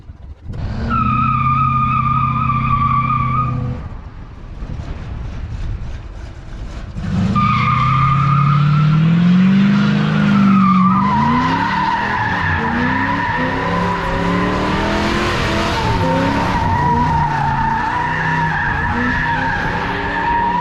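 A 4,000-pound Plymouth Fury station wagon with EFI spinning a donut: the engine revs hard, then tires screech in long, loud, wavering squeals that carry on nearly without pause.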